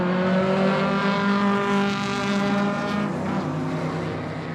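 Race cars, a Mk I Fiesta against a Honda VTEC Turbo powered Mk II, roar past on a rented track, a loud sustained engine drone with shifting harmonic tones that fades slightly at the end.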